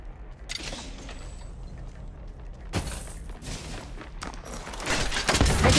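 Bursts of rapid automatic gunfire in the mobile battle royale game Apex Legends Mobile, loud and close, with sharp shattering cracks and a heavier volley building toward the end.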